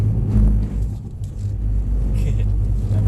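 Mercedes-Benz car spinning out on a track, a steady loud engine rumble holding throughout with slight rises in revs, while a voice talks over it.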